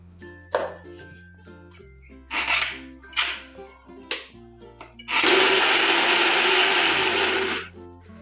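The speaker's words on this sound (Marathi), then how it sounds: "आपण आता ही डाळ मिक्सरला मोठी वाटून घ्यायची" A kitchen mixer grinder coarsely grinding lentils runs in several short pulses, then one longer loud whirring burst near the end, close and harsh with clattering between the bursts and no talking.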